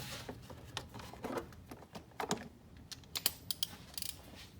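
A torque wrench clicking while spark plugs are tightened on a Dodge Charger R/T 5.7L HEMI, with quiet, sharp, irregular clicks and small ratcheting taps heard up close and no talking.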